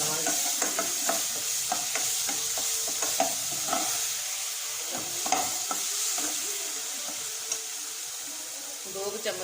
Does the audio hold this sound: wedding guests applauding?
no